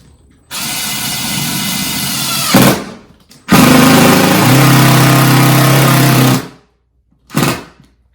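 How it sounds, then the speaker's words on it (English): A power drill whirs loudly in two sustained bursts while driving a screw into a wall, the second straining lower as the screw bites, followed by a short final blip. "You just drill them into the wall."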